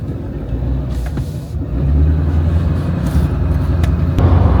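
A car drives along a road, heard from inside as a steady low rumble of engine and tire noise with a slight rise midway, continuous and fairly loud, with no voices.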